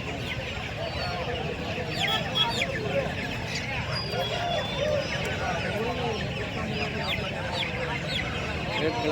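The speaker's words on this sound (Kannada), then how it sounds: "ಇಲ್ಲೇ ಒಂದು ಹುಂಜ ಇದೆ" Game chickens and roosters cluck steadily and close by at Kundarapalli, with background crowd chatter throughout.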